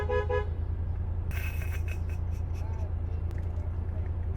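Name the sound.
car horn honking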